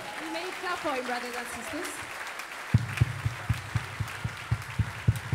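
A church congregation claps in steady unison, loud, even beats following a stretch of people singing and speaking, the rhythmic applause continuing to the end.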